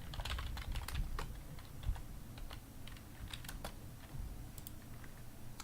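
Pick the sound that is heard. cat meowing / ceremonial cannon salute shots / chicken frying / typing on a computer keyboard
typing on a computer keyboard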